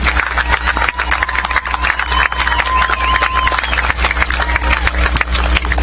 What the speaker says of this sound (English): Let's give a round of applause for the master's recipients from the School of Arts